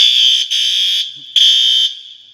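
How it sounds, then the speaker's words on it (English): A condo hallway fire alarm under test sounds as a loud, shrill electronic tone in two bursts with a short gap between them. No voices are heard. "he actually let me test a couple of the fire alarms at the end"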